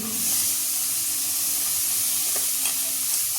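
Cherry tomatoes and vegetables sautéing in a pan for a nettle-free ragi soup, a steady close sizzle and hiss of frying with faint stirring scrapes, no talking.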